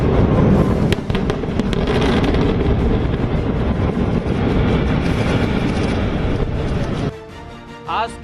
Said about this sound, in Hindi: ब्लास्ट के बाद जैसे ही बिल्डिंग टूटकर जमीन पर गिरी तो धूल का गुबार आसमान में उड़ा।